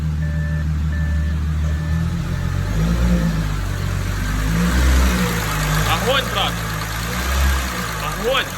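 An Audi 3.0 TFSI engine idles and revs in steady bursts close by after a rebuild, with people talking over it and a faint beeping tone early on.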